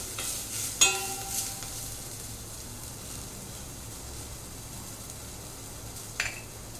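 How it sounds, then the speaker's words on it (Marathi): Spices and curry leaves temper in hot oil for a yogurt kadhi, a faint, steady sizzle and crackle with a couple of metallic utensil clinks near the start and end. "छान असं खमंग आपण फोडणी दिलेली आहे"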